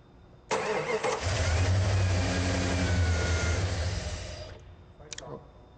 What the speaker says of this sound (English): go ahead and bump the starter a little bit too